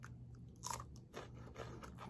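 Okra is bitten and chewed up close, with a couple of sharp crisp crunches followed by quieter, moist chewing and no voices.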